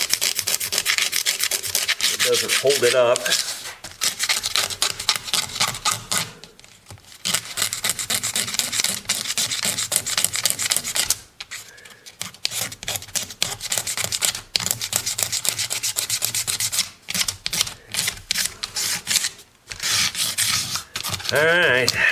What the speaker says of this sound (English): I'll see if I can't scrape that flat with the single edge razor blade.